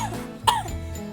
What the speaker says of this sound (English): making people cough